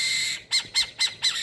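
An owl perched on a house sign in a condominium, nesting in a burrow in the ground, gives four harsh, evenly spaced squawks close by with no one speaking.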